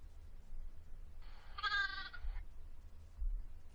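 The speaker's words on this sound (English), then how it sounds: "Can you hear this sound? What is this? Yes, this little lamb." A single short lamb bleat, faint and somewhat distant, rises briefly over a low background rumble with no one speaking.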